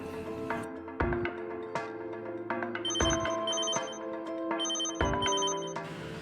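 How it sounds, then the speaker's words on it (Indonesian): Phone ringing with an incoming call: repeated bright electronic ringtone bursts with melodic tones, loud and close, continuing steadily without any talking over it. "Si Leon telepon, angkat"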